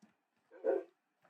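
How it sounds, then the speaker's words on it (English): A single short dog bark from the video game Minecraft, one clear woof close by with a faint yip before and after, in near silence. "Don't bark at me."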